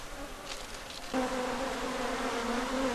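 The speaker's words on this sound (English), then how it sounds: "the bees were disinclined to stay in the hive that we had transferred their comb into." Honeybees swarm and buzz steadily during a hive transfer in Ghana, a dense close drone that thickens and grows louder partway through, with no voices.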